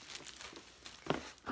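Plastic wrapping is peeled off a brand-new product, giving brief close crinkling and tearing sounds with one sharper rustle partway through.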